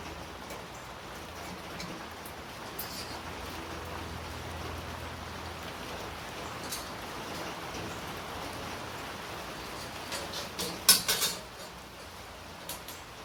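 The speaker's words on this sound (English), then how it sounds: "And we got some rain to make it really humid." Steady rain falls outside a workshop where a hard-line cutter wheel is about to be used, a soft constant hiss with scattered drips, plus a few sharper clinks of metal near the end.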